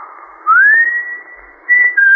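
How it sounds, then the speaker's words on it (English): A man whistles a clear, steady tune with a rising glide, two sustained phrases separated by a short pause, used as a sound effect in an old-time spooky radio drama; no talking. "you could stand in the orchard until you heard him whistle"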